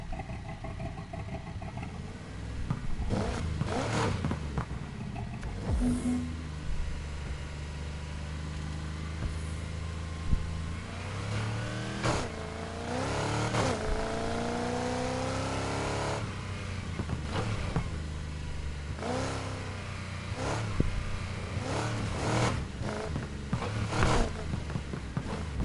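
A car engine in Need for Speed Heat video game revs up and down repeatedly, the pitch climbing and falling in bursts over a steady idle, with no talking.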